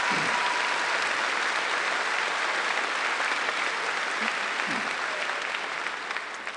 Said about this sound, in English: Please give our trustees a round of applause.